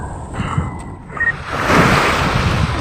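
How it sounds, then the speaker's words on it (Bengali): Sea wind gusting across the open waterfront at Gardens by the Bay, Singapore, a steady broadband rush with some surf-like wash, building louder in the second half and continuing without pause. "চারিদিকে মন মাতাল করে একটা বাতাস বইছে,"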